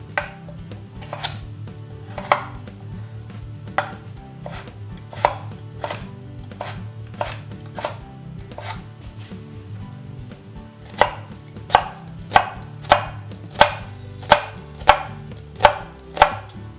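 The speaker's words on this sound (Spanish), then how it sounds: "Picamos la cebolla, el ajo y la zanahoria" Onion, garlic and carrot are chopped on a board with a knife, a steady series of crisp, close thuds that speeds into a faster, louder run near the end.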